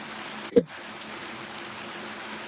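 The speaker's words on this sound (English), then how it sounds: "my mic's going nuts over the rain, bro" Heavy rain picked up by a microphone during a koi auction broadcast: a steady, dense hiss of rainfall throughout, with one sharp knock or crackle near the start and a faint tick later.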